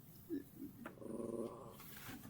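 A dog growls at another dog outside, a low rumbling growl of about a second after a couple of short huffs, close and quiet, alone in a still room.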